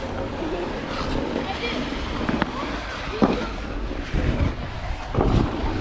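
Wind blows steadily across an outdoor ice rink, buffeting the microphone with a constant low rumble, and a few louder gusts and knocks rise out of it.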